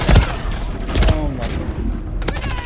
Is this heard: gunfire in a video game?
yes